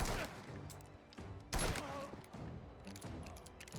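Gunfire in the video game Mafia: The Old Country pops off in quick bursts, mixed with a voice shouting in French, at low overall level.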